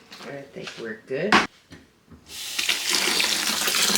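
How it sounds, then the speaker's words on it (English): A tap runs cold water into a plastic container in a kitchen sink, a steady rushing hiss that starts partway through and continues to the end, preceded by a voice and a sharp clunk. "Now I'm just going to fill it up with cold water."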